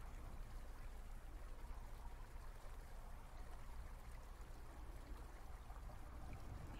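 Gentle lake waves lap at a beach in a soft, even, continuous wash, steady and quiet with no voices.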